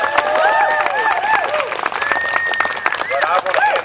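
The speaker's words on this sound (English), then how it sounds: "let's give Isaac Ferris another round of applause" Applause and cheering from a rally crowd for Isaac Ferris at a protest against Sodexo, loud and dense throughout with excited voices and whoops layered over the clapping.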